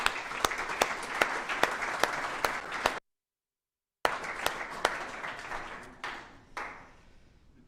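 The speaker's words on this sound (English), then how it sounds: "let's have a round of applause for Frank" An audience at a fluid power hall of fame ceremony applauds an honoree, the clapping loud and steady with sharp individual claps, breaking off briefly before resuming and thinning out into scattered claps.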